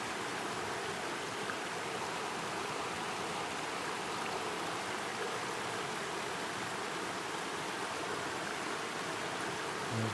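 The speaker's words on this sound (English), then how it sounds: "Here's the river." A river on the Oregon coast, some 40 to 50 feet from a campsite, flows with a steady, broad rushing wash that holds at an even level throughout, with no voices over it.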